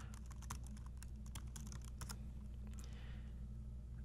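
A username and password are typed on a computer keyboard in a quick run of light, close key clicks, quiet over a low steady hum.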